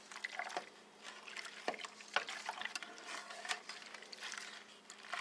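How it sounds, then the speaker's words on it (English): Water poured into a homemade laundry soap mixture with washing soda, a continuous trickling and splashing with scattered drips, close and fairly quiet, no talking. "And then I'm going to add another 4 cups of water."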